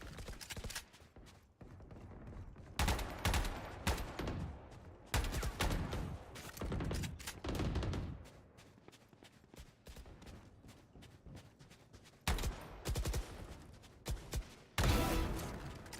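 Gunfire rattles in a first-person shooter video game, with several loud bursts of rapid shots separated by quieter gaps, some short single pops near the end.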